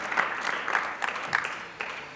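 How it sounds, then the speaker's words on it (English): Brief applause from a panel audience welcoming congressional staffers, a soft, scattered patter of clapping from a modest crowd. "give them a big round of applause and big welcome"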